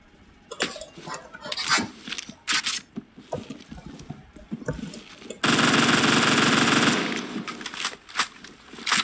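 Rifle gunfire in the shooter game Phantom Forces: short bursts and single shots crack out in quick succession, then a long, loud, unbroken full-auto stream before the firing tapers back into scattered bursts.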